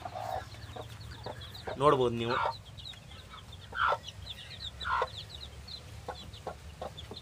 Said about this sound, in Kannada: ನಿನ್ನೆ ಮತ್ತೆ ಒಂದು 15 ಮರಿಗಳೇ ಒಂದು ಕೋಳಿ ತೆಗೆದಿದೆ